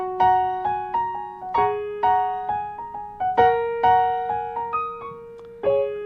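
A happy, bouncy piano tune is played with single notes and chords struck in a lively rhythm, each ringing and fading before the next. It sounds close, clean and unaccompanied, with no voices.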